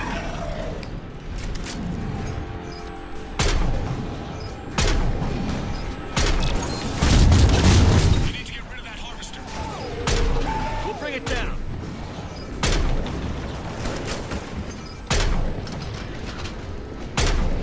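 Gunfire in the video game Mass Effect 3 bursts out in repeated loud shots and booming impacts at an uneven rhythm, with a person talking over the fighting.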